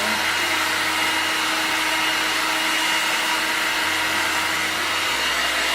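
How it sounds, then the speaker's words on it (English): A hair dryer blows continuously at close range while hair is round-brushed, its steady airy whir shifting slightly in pitch as it is moved around. "put your blow dryer back there"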